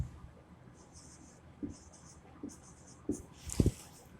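Hand writing numbers with a pen on paper during a maths lesson, a series of short scratchy strokes and taps that grow louder toward the end, with no talking.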